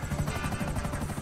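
A helicopter in the game GTA Online gives a steady rapid rotor chop, a fairly quiet, even whump-whump pulse with no talking over it.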